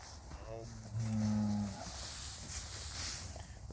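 Cattle being fed three-year-old weathered hay, with one cow letting out a long, deep moo close by, followed by outdoor rustling and wind.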